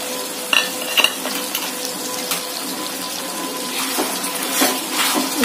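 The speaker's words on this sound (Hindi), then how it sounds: "इसको हम एक मिनट तक भून लेंगे।" Chickpeas frying in misal gravy, a wet, steady sizzle with clattering stirring taps near the start and more spattering toward the end, close and alone without talk.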